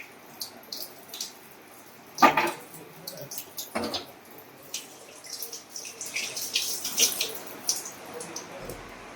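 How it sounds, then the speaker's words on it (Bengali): Tap water splashes while potatoes are washed in a kitchen sink, an intermittent, fairly faint patter of running and dripping water with louder splashes as the potatoes are handled. "এবারে ধুয়ে নিই পরপর, আলুটাকে"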